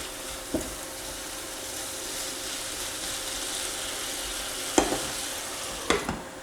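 Chicken bites frying in a covered pan, with a steady close sizzle and crackle; a few sharp scrapes and clinks of a utensil stirring the pieces break through the hiss.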